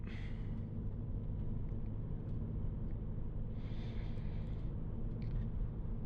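A 2008 Volkswagen Passat B6 with 180,000 miles driving on an evening road, with a steady low engine and road rumble inside the cabin and faint passing whooshes.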